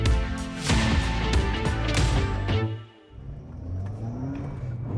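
Mk5 VW Golf GTI with upgraded brakes running hard from 60 mph, loud car engine and tyre rumble that cuts off abruptly partway through, then a quieter settling whir as the car comes to a stop.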